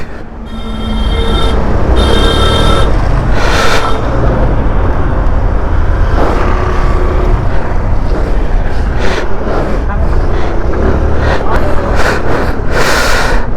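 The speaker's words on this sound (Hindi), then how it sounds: "ये है अपना फरक्का का ट्रैफिक" Road traffic at Farakka, with cars and trucks passing continuously, makes a loud, steady roar with repeated surges and occasional high squeals, heard up close from the roadside.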